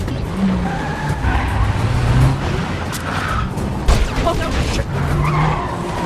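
Car tires squeal and skid repeatedly during a high-speed film car chase, layered over roaring engines, a brief thud and constant loud rumble, with voices faintly mixed in.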